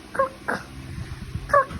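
A dog whimpers indoors in a house under renovation, with two thin high whines and a short snuffling yip between them, close and fairly loud over a quiet room.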